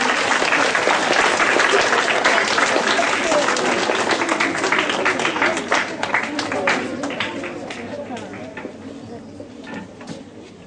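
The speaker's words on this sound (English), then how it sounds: "Give big round of applause." Loud, full applause from a school assembly audience on Republic Day, dense at first and then gradually fading and thinning into scattered claps, with voices mixed in.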